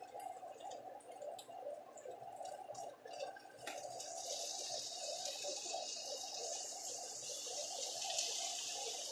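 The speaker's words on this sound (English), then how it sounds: "That steam that's being produced by the water hitting the pan will lift the omelet off of the pan" Water poured around an omelette in a hot pan, first bubbling and gurgling, then rising into a sustained hiss of steam that grows louder toward the end.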